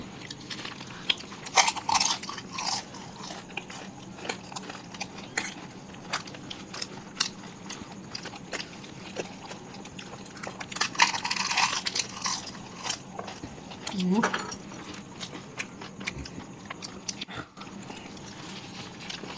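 Someone eats chili chicken with chow mein close to the mic, with scattered wet chewing and biting sounds and small crunchy bursts over a steady quiet room background.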